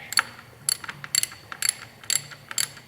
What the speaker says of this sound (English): It's a standard 90-degree Allen wrench. So this process here is gonna take a couple of minutes